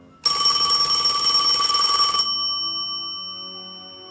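An old-fashioned telephone bell rings loudly in one sustained burst of about two seconds, then its metallic tone decays slowly into silence, with no talking.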